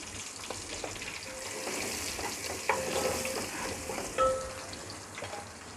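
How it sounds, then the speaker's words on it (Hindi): Spices sizzle with garam masala in a pan during Parda Pulao cooking, a soft steady frying crackle with occasional stirring scrapes and clinks, fairly quiet and close, with no talk. "2 से 3 सेकंड के लिए इसको भून लेते हैं"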